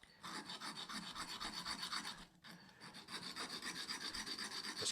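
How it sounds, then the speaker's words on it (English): A coarse stone filing a small dimple into the grip of a jaw harp: a steady, close rasping scrape of rapid strokes that dips briefly midway and then resumes at the same pace. "I'm just going to file a little depression in there."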